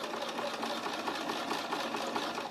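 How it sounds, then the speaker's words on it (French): Sewing machine stitching along a curved bag strap, a fast, close mechanical whirring with a rapid even needle rhythm that runs steadily throughout. "Je vous ai pas dit, pensez à allonger votre point. On coud à combien, Elodie?"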